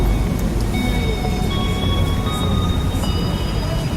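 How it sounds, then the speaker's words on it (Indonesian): A train bound for Surabaya rolls into a station track at night, a loud, steady rumble of wheels on rail with faint high squeals and a distant tone drifting over it. "Kereta tujuan Surabaya memasuki jalur 2."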